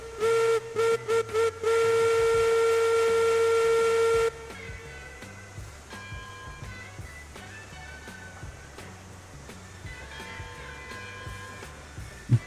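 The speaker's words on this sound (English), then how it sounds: "Let's give her a good whistle." Steam locomotive whistle in the railroad game RAILROADS Online, sounding loud in several short bursts followed by a long sustained blast, then giving way to quieter chuffing and mechanical running sounds.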